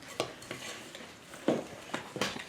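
Dry, loosely packing snow stirred in a bowl for snow cream, giving several short scraping, clinking strokes of a utensil against the bowl at an uneven pace, close and fairly quiet.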